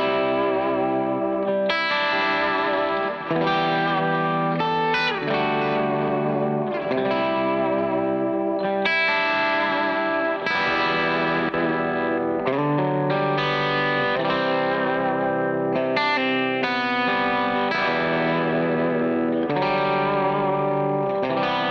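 Electric guitar captured through a Royer R121 ribbon microphone, playing a continuous distorted, effects-laden part with chorus and echo, steady and loud for the whole passage with no talking.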